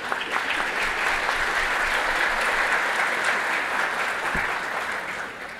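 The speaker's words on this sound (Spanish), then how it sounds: "un aplauso para el pato, entonces un aplauso para el pato" Audience applause on a comedy talk show, a close, dense wash of clapping that stays even for several seconds and eases off slightly at the end.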